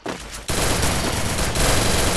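Loud, close bursts of automatic gunfire in the Free Fire Max video game: a short volley, a brief gap, then sustained rapid fire for about two seconds with no talk.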